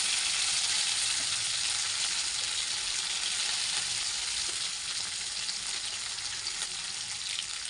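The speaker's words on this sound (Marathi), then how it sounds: "यांना सगळं चांगलं मस्त तडकून द्यायचं" Green chillies and curry leaves crackle in hot oil with garlic, a dense, steady sizzle with fine spitting pops running close and loud throughout, with no voices.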